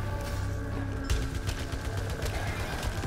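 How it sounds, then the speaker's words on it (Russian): Rapid bursts of gunfire in the video game Returnal crackle in quick succession over a dense background of rumbling noise, sounding like an intense shootout. "Какая пушка активненькая."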